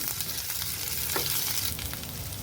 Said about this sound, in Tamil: எண்ணெய் சூடானதுக்கப்புறம் இதில் உளுந்தம்பருப்பு, கொஞ்சம் கடலைப்பருப்பு சேர்த்துக்கிறேங்க